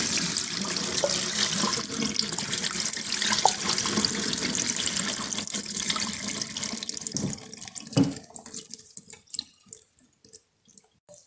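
Cold water runs steadily from a tap into a sink, rinsing vinegar-curdled paneer, then thins out into irregular splashes and drips as the flow stops.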